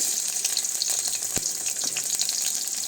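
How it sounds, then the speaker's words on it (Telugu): Chopped onions and green chillies frying in hot oil in a pan, a steady close hiss and crackle with a single sharp knock partway through, no voices. "ఇప్పుడు ఉల్లిపాయలు పచ్చిమిరకాయలు వేస్తున్నానండి."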